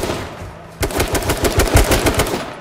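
Rapid gunfire in the shooter game H1Z1, a loud, close burst of quick repeated shots following a moment of quieter ambience.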